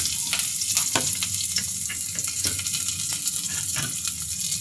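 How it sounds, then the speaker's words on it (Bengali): Chopped onion and green chili fry briskly in a pan with a dense, crackling sizzle, and a spatula scrapes repeatedly against the pan in an irregular rhythm, loud and close. "কাঁচামরিচ কুচিতে আমি এখন সুন্দর করে ভেজে নেব"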